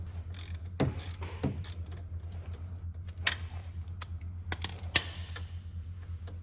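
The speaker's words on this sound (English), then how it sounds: "this Allen head plug right here, we're gonna go ahead and take that loose" Clicks and ratcheting of a tool loosening the Allen head fill plug on a Polaris RZR front differential, scattered sharp mechanical ticks over a steady low hum, no speech.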